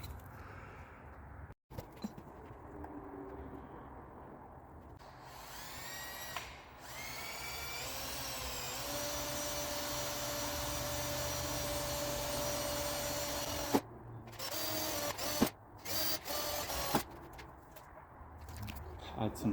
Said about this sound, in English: I gotta mark the 3 holes, drill them, and then pop rivet the bracket onto the A-pillar.